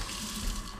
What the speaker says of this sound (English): Water's still on here.